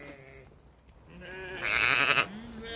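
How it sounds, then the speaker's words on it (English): Ewes bleat on a farm, with one clear, loud wavering bleat rising near the end after fainter calls and background rustle. "Nice bunch of ewes here as well."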